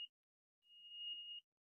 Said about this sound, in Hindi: कंटिन्यूटी पे आप चेक करना चाहें तो ये बजर होता है कंटिन्यूटी को